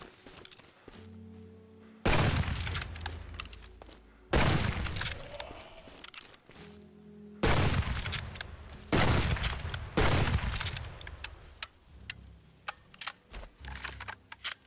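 Gunfire in a zombie survival crafting video game, with several loud bursts of rapid shots separated by quieter stretches of low ambient tones and a few scattered single reports near the end.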